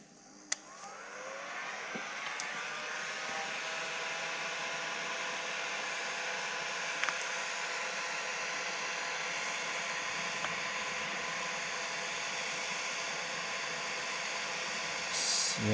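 A heat gun warming vinyl wrap film on a Lexus RCF front bumper blows with a steady, even hiss that switches on early and runs unbroken for about fifteen seconds, with a few faint clicks.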